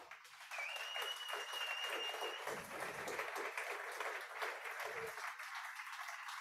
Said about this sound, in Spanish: Le puedes dar un aplauso al rey